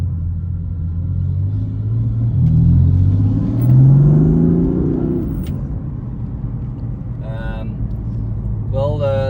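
A BMW M4 F82 heard from outside, a deep engine rumble that swells as it revs and then settles back to a low idle, with someone talking over the drone.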